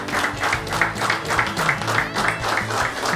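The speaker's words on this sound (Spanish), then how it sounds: "Yo quiero que todos le demos un aplauso para recibirlo en este momento." Congregation applause welcoming a guest preacher at a church gathering, loud, steady clapping with a regular rhythmic pulse and a low tonal hum beneath, sustained throughout.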